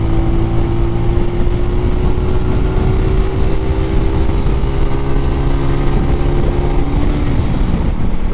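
A motorcycle on a Sunday ride near Krishnanagar, its engine droning steadily at a constant speed with a sustained hum and road and wind noise, loud and unbroken, with no talk.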